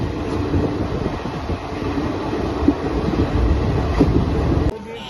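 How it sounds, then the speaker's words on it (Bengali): An express train pulls into Bankura station, a loud steady rumble of carriages and wheels on the rails with a few brief squeals and knocks, ending abruptly. "এখন বাজে 5:26 আর ট্রেন বাঁকুড়া স্টেশন ঢুকছে।"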